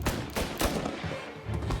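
Rapid bursts of gunfire in Mafia: Definitive Edition, several loud close shots in quick succession with booming low-end thumps and ringing tails.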